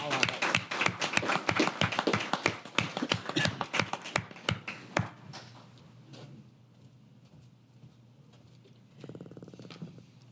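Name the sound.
audience applause at council meeting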